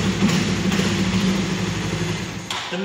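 A Honda CB150R motorcycle engine idles steadily with fresh oil, a smooth, even low rumble held close and constant throughout with no voices.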